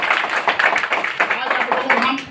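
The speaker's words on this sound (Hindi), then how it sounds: "ताली जोर से बजनी चाहिए।" Audience clapping at a village meeting in Dehri, a steady patter of hand claps filling the space, with voices talking over it throughout.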